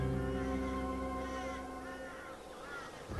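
Crows caw repeatedly over an eagle's kill, a chorus of harsh, overlapping calls that stays loud and close from start to finish, with no voices.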